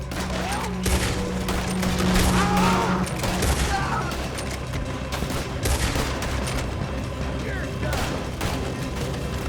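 Gunfire in a Wild West shootout in the video game Red Dead Redemption 2, with rapid repeated shots and booms throughout, loud and close, mixed with shouting voices and background game noise.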